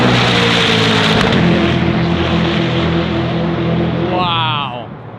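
Supercars, a Pagani Zonda and a World Record Edition Koenigsegg, lap a race track with a sustained engine roar that swells and then pitches away as one passes, with voices faintly present.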